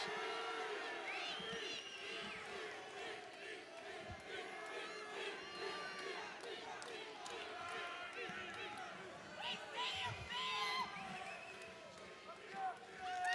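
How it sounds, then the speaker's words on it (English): A large arena crowd at the 2014 Mr. Olympia bodybuilding contest roars and cheers continuously at a moderate distance, with scattered shouts and an announcer's voice mixed in. "Crowd roars"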